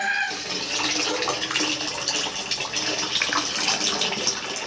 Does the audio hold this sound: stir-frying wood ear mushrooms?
no